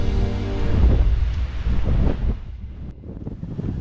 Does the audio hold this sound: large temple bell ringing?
no